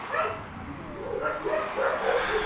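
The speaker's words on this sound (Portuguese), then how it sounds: "Cachorrada latindo." Several dogs bark and yip in a loose, overlapping cluster, moderately near, over a steady background of indoor hum.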